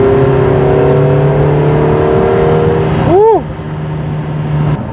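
A Lotus Emira i4 Turbo fitted with a Milltek exhaust idles with a steady drone, then blips its revs in a sharp rise and fall before settling back to a quieter idle. Harmonic engine tones are clear and close.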